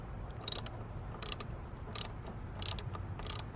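Hand wrench ratcheting on a 12mm bolt under the seat of a 1996 Toyota Camry, several short bursts of close, crisp clicking with small pauses between them.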